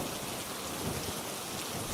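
Soft, steady rain falls as an even, continuous hiss of drops, gentle and without gusts, heard alone with no voices.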